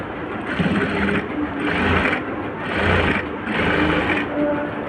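A sewing machine stitches along the edge of a blouse, whirring in several bursts that swell and ease with short pauses between, loud and close with no talk.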